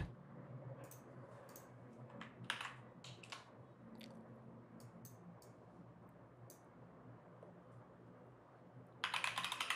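Keys clatter on a computer keyboard as a Docker command is typed at a shell prompt, with quiet, irregular taps, a few louder strokes, and a rapid burst of keystrokes at the end.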